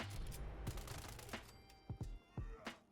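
Rapid bursts of 10mm pistol fire from Fallout 76, sharp repeated shots in quick clusters with brief gaps, loud and close over a steady background.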